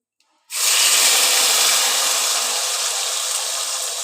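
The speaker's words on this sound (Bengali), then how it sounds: "এবার আমি এই মশলার পেস্টটা ঢেলে দিলাম" Spice paste poured into hot oil in a kadai, with dry red chillies and a bay leaf already frying, bursts into a loud, sudden sizzle that holds as a steady hiss close by, with no talking.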